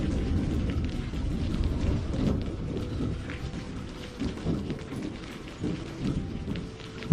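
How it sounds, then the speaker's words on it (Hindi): Heavy rain pours down in a dense, steady roar close by, with low rumbles that suggest distant thunder rolling underneath; no voices are heard. "बारिश रुकने का नाम ही नहीं ले रही।"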